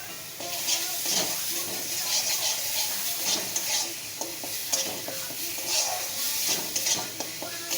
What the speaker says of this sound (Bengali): লবণটা দিয়ে একটু ভেজে নেব।